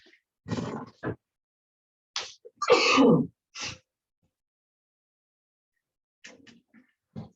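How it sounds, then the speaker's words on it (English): A sudden sneeze-like burst in a quiet room, followed by a few softer breathy sounds and small noises, then near silence before faint rustles. "And there's the sneeze I was waiting for"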